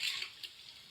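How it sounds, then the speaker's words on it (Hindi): Garlic fries with salt and chili for nihari, giving a brief, faint, soft sizzle with a light hiss and no voices. "अब इसमें डालेंगे नमक और मिर्च। इसकी करेंगे भुनाई।"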